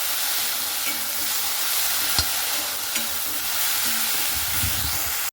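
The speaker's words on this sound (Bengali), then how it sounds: "ডাঁটাগুলোকে এইভাবে খুব সুন্দর করে আমি নাড়াচাড়া করে নিচ্ছি। তো এখানে আমি একটু ভেজে নেব সবগুলোর সঙ্গেই।" Elephant foot yam stalks are stirred and fried in a pan, giving a steady close sizzle with a few scraping clicks from the stirring utensil, and no voices.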